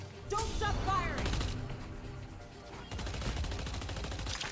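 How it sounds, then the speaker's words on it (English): Rapid gunfire rattles in the video game Deadlock, two sustained bursts of fast repeating shots, loud and close, with a voice calling out in between. "Don't stop firing!"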